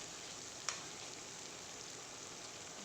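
Tomatoes with rock salt frying in a pan, a soft steady sizzle that holds evenly throughout, with one faint click early on.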